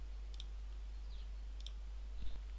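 Faint, sharp key clicks on a computer keyboard, two small clusters about a second apart, pressing number keys to switch viewport display modes in RealFlow 3D software, heard alone over a low steady hum.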